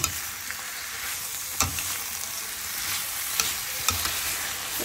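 Bitter gourd and onion fry together in a stainless steel pan, a steady crackling sizzle broken by a few sharp scraping stirs of the utensil, close and moderately loud, with no voices.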